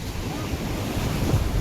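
Sea waves wash ashore at a beach with many boats moored nearby, a dense rushing surf mixed with wind buffeting the microphone.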